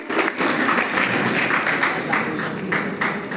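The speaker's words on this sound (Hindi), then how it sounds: "जोरदार तालियां तो बजाएं सभी" Audience at a Brahma Kumaris Shivratri programme held in a temple courtyard in Paschim Vihar, Delhi, applauding with dense, steady clapping that fills the whole moment, close and loud.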